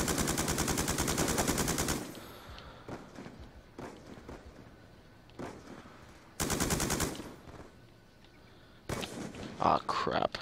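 A light machine gun in a video game fires three loud, sustained automatic bursts of rapid, evenly spaced shots, with quieter thuds and footsteps between them.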